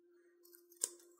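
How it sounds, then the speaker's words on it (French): Scissors snipping the corners of paper for a mini forest-themed scrapbook album: a single quiet, close cut with a crisp metallic snap over a faint steady hum. "je vais venir découper mes angles comme ceci"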